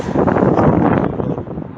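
Cold wind blowing outdoors in Taif, a loud, steady rushing roar that buffets the microphone throughout, with no voices.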